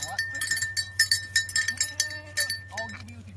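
Goats on a farm bleating in short repeated calls amid clinking bells, fairly close, with a low steady hum underneath.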